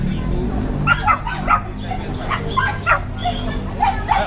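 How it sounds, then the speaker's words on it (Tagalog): Pomeranian dogs yip, bark and whimper in short repeated bursts, close by, over a background of people talking. "Meron tayong mga Pomeranian."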